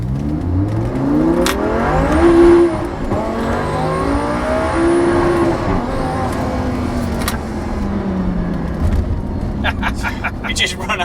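A turbocharged Audi R8 V10 accelerates hard with wheel spin, the engine note climbing in pitch with a high turbo whine, loud and close from inside the car, while people talk over it.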